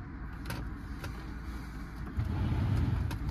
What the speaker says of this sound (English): All the window motors work